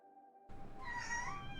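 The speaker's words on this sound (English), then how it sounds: "You're gonna meow like that, you're gonna sit in my lap." A pet cat named Cheeto lets out a single drawn-out meow, close and fairly loud, starting after a brief stretch of quiet background sound.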